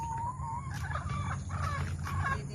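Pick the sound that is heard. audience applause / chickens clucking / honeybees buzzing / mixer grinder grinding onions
chickens clucking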